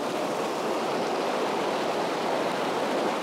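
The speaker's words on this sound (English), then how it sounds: "I hope you can hear me over the running water" A mountain stream rushes steadily over rocks beside a waterfall, a loud, continuous broadband hiss of running water from start to finish with no voices.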